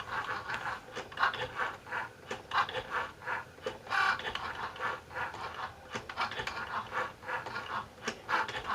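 A Cricut Joy cutting machine drawing and cutting a card, giving a steady close whirr with rhythmic back-and-forth scratching and mechanical movement pulses throughout, alone without voices.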